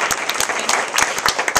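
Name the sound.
audience applause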